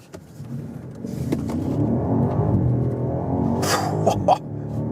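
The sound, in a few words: sports car accelerating uphill in sports mode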